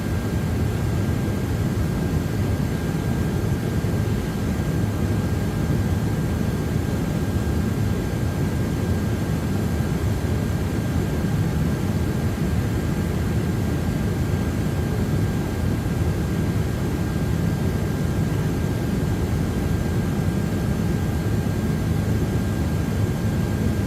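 A simulated airplane engine drones in flight inside a flight simulator game, a steady unbroken broadband roar with a faint constant whine, holding the same level throughout with no voices.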